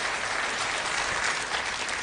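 Studio audience applauding a Danish television music show, a steady dense wash of clapping filling the room at close range, unbroken for the full stretch with no voices over it.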